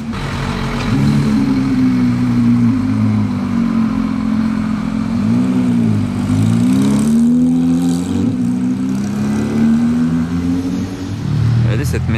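A Porsche GT3 RS engine revs and drones loudly and nearby, pitch sweeping up and down with changing speed, under steady traffic noise; people talk throughout.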